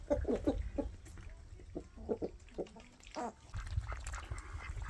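Ducks on a small woodland homestead quack and chatter in short, scattered calls close by, gathered around a mud puddle, with a low rumble underneath.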